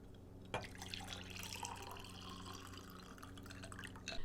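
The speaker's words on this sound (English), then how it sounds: "now we're going to pour it into this really pretty drink glass" Iced drink poured into a pretty drink glass, a steady soft liquid stream with dripping and a brief clink of ice near the start, continuing close and quiet with no talk.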